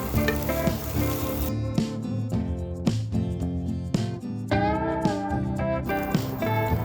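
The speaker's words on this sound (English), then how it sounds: "You can now mix all of this really well and let this cook on low heat for another 3 minutes." Poha with onion and turmeric cooking on low heat in a pan: a continuous soft sizzle with occasional stirring, running under prominent melodic background music throughout.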